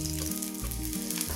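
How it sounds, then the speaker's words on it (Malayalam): Chopped ginger sizzles loudly in hot coconut oil for a Kerala puli inji, a steady close frying crackle with no voices. "ഇതിലേക്ക് അരിഞ്ഞു വെച്ചിരിക്കുന്ന ഇഞ്ചി ചേർക്കാം"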